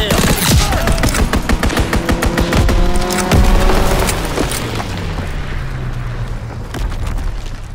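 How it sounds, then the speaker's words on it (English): Strafing-run gunfire in Call of Duty WWII on the Pointe du Hoc map: a dense, loud barrage of rapid machine-gun bursts and booming impacts that rolls on without pause, then slowly thins and fades toward the end. "Strafing run inbound."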